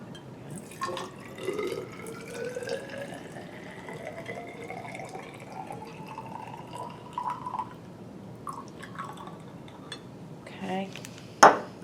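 Water poured from a container into a graduated cylinder in a lab setup, a steady trickling fill with small drips and faint clinks, running continuously under low background noise before a sharp knock at the end.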